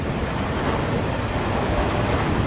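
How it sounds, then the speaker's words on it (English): A long CSX M200 eastbound freight train passes in Fostoria, Ohio, making a steady, loud, continuous rumble and rolling roar close by, with no talk. "Yeah, that's a long train."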